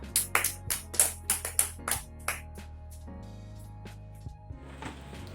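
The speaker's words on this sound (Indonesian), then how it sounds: "Tepuk tangan dulu dong." Children in a primary school classroom clap in a short burst of about a dozen sharp claps, loud and close, then fade into quieter room noise.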